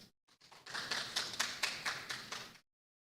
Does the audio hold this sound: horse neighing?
no